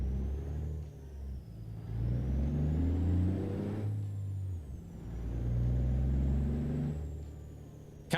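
A truck engine drones in Euro Truck Simulator 2, close and steady, climbing in pitch through the gears in two long pulls with a brief dip between them, with a thin high whine riding above and no talking.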